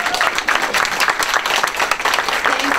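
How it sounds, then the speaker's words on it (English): Audience applause at a Georgia GOP chairman candidates forum in Fulton County, a steady wash of many hands clapping for a recognized guest, fairly loud and continuous throughout. "Let's give him a big round of applause."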